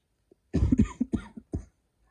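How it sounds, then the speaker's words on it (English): Several close coughs in a quick burst, a short harsh hack followed by a run of rougher chesty coughs, loud and near with no talk over them. "I don't know why I've been coughing a lot today"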